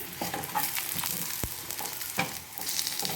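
Readymade parotta fries in oil in a pan, crackling with a steady sizzle broken by sharp stirring and scraping sounds, close and fairly quiet.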